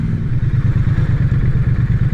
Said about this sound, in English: Just drive through Port Issac on a motorbike without annoying anyone